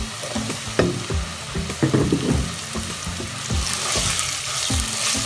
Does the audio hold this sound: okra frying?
yes